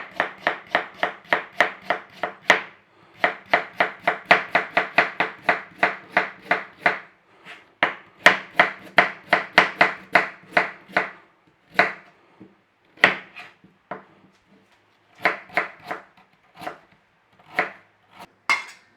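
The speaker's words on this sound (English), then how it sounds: "Carrots we want slicing as well." Knife slicing carrots on a board for a Cumbrian tatie pot, a fast run of crisp, evenly spaced chops close up, pausing briefly before continuing in shorter bursts.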